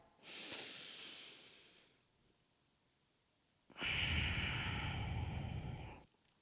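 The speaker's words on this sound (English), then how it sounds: "Full breath in. And full breath out." Two deep yoga breaths, a long airy inhale followed after a short pause by a fuller, louder exhale, close and alone with no talk.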